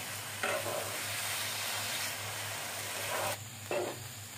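A thick coconut naru mixture stirred in a hot pan, giving a steady scraping, sizzling hiss with a couple of louder stirring strokes.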